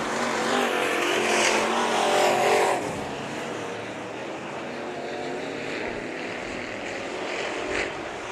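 Race cars on the final lap of the main event at Bakersfield Speedway, a continuous loud roar of engines sweeping past at a distance and swelling as the pack nears.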